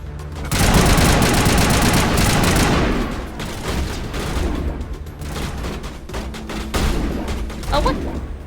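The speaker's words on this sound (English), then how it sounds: "Shotgun time." Shotgun blasts in the sci-fi shooter Mass Effect Legendary Edition, a loud dense burst of rapid gunfire and booms for a few seconds, then scattered shots continuing under a voice talking.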